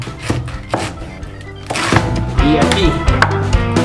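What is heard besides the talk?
knife cutting cabbage into four pieces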